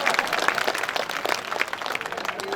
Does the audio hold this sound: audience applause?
yes